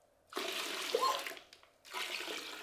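Water pours into a plastic bag of pottery clay to rehydrate it, running as a steady, close rushing stream with a brief pause before a second pour.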